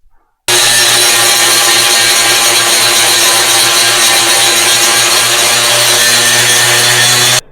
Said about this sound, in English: they have gotten this bolt extraction tool out, and they're just going to remove the heads